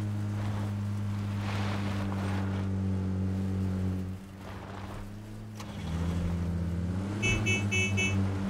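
Engine drone of a car driven in the PUBG battle royale game on Erangel, a steady humming motor that shifts pitch as it revs and changes speed, with rushing wind noise over it.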